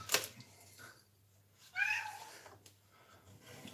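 A cat meows indoors, a short faint call followed by a longer, louder drawn-out meow, set against a quiet room hum.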